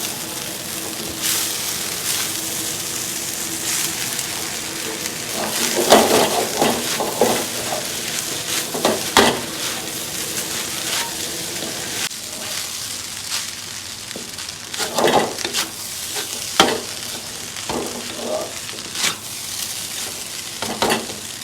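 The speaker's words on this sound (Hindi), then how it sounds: "अब इसमें हम जो है राइस अपने मिक्स करेंगे।" Rice is stir-fried in a pan for chicken fried rice, sizzling steadily while repeated spatula scrapes and clanks rise above the frying.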